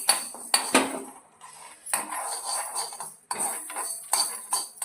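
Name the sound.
seeds frying in pan for lemon pickle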